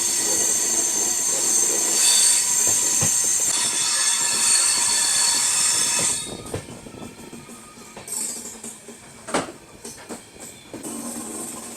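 Passenger express train hauled by a WAP7 electric locomotive rounding a curve, loud continuous rumble with sharp squealing wheels that ease after a few seconds into quieter clattering rail noise.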